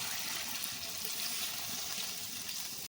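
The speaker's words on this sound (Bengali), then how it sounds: "এবার মিক্সি ধোয়া জল দিয়ে দেব।" Water that rinsed out a mixer jar pours into a cooking pan of spiced curry, a steady, even splashing rush that runs for about three seconds and then stops abruptly.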